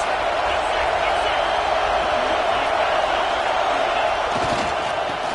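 A stadium crowd in a college football video game roars in a steady, dense wash of cheering and noise near the goal line, continuous and loud throughout.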